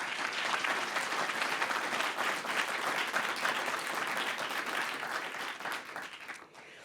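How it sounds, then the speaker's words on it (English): An audience at an annual community services meeting breaks into sustained applause for an award, dense steady clapping from a roomful of people that fades slightly at the end. "we recognize you with a round of applause this evening for your effort"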